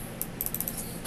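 Clicky keystrokes on a temperamental Bluetooth computer keyboard, a short burst of several quick taps, close and moderately quiet over a low background hum.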